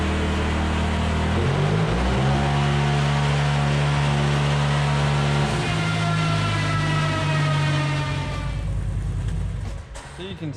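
Big-turbo, E85-fuelled Porsche Turbo S on a dyno, engine droning loud and continuous for about eight seconds with rising harmonic tones before easing off near the end.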